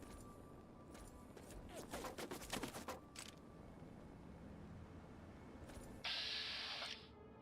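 Gunfire from an enemy in Fallout 3's Capital Wasteland comes as a quick burst of faint, distant cracks, then fades into low game ambience with a brief hissing burst near the end.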